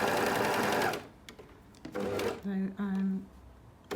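A sewing machine stitches a sleeve while setting it in, running in a loud steady burst before stopping, followed by quieter handling noises and some talk.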